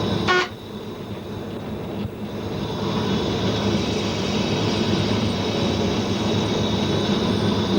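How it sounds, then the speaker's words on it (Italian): A regional train on the Gailtal railway in Austria brakes to a stop at Postran station, a steady broadband rumble and rail roar that swells and holds, with a brief high squeal near the start. "Il treno però frena per fermarsi alla fermata di Postran."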